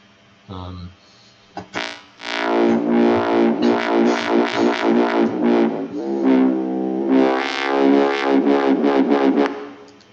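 A buzzy, distorted synth plays a choppy run of bright, harmonically rich notes, loud and up close, with a short blip before it starts.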